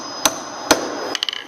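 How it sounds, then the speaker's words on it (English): Hammer tapping nails into a wooden CD/DVD holder: two sharp, isolated strikes followed by a quick flurry of lighter taps, close and clear in a quiet room. "It's easier to hammer also when you have your hand at the end of the handle."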